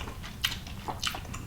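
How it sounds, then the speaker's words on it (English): A soft bite into Lao beef stew with tendon and meat dipped in thick sauce, eaten with sticky rice, heard as a few quiet, close, moist chewing clicks over a faint low background. "Here we go, the bite."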